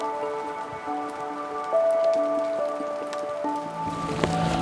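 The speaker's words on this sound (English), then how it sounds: "this rain is getting quite difficult to work with" Rain falls in an autumn forest, an even, close patter of drops on surfaces running throughout, with soft sustained tones lying beneath.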